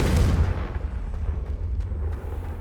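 Booming blasts of the Confringo fire spell in Hogwarts Legacy, a heavy explosion opening the moment and then a rumbling, crackling tail with a few lighter pops, loud and close.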